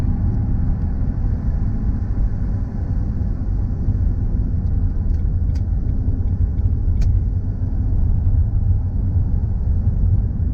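A 1998 Ford Focus Ghia with a 1.6-litre 16-valve 100 hp four-cylinder Zetec engine hums and rumbles steadily from inside while accelerating, with a constant low drone and faint road noise.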